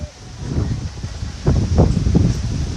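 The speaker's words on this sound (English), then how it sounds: "Oh my gosh, it's windy." Gusty wind blows outdoors, rising in bursts of rustling air, moderately loud and close to the microphone.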